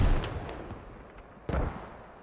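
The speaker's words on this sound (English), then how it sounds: "I'm throwing nade." Two sharp bursts from a grenade in the military shooter Squad, one at the start and a louder single blast midway, each fading into quiet rumble, with no talking.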